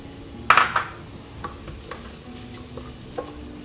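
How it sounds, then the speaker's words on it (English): Chopped onion hits a tablespoon of hot oil in a pan with a sharp burst of sizzle, followed by quieter frying crackle and a few soft stirring scrapes. "I've got a tablespoon of oil in the pan and I'm adding 1 onion which I've chopped"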